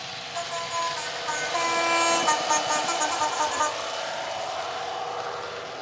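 A small TT:120 scale model train hums and rumbles steadily along the track with a faint tonal whine, close and continuous, swelling slightly in the middle before easing.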